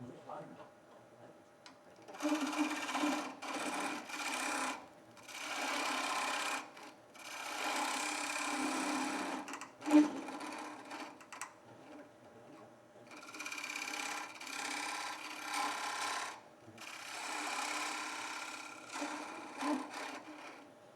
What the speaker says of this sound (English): So let's add us another mortise in here.